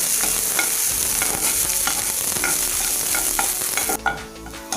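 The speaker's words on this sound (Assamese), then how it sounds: "পিয়াজখিনি মই ভালকৈ ভাজি লম।" Onion fries in refined oil in a wok while being stirred, with repeated scraping strokes over a constant close sizzle that drops away near the end.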